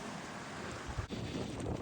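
Strong wind gusts across a coastal path at Cemaes Bay in Wales, a steady loud roar buffeting the microphone and swelling briefly near the middle, with no voices.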